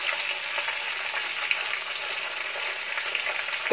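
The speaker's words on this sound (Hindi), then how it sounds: "अब इसमें हम ये 1 केजी कटा हुआ प्याज डालेंगे।" A kilogram of chopped onion frying in hot oil for Bihari chicken, a dense, steady sizzle close up that crackles continuously without pause.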